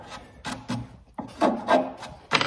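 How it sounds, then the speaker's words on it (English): A hand file rasps across the end of a damaged wooden crank-style phonograph cabinet, four or five short, close strokes in an uneven rhythm with brief pauses between them. "I'm gonna take a file and just kind of get the little bits off of the end there."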